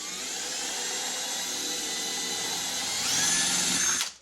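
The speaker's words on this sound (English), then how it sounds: "Had to drill a few holes." A power drill bores holes in a Yamaha YZ426 dirt bike fender, whining steadily and loudly, then rising in pitch and strain as the bit bites in before stopping.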